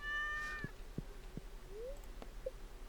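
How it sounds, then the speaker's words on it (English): A cat meows in the farming video game Stardew Valley, one short clear meow followed by soft game sound effects and light taps against a quiet background. "Oh, there's my cat. Meow."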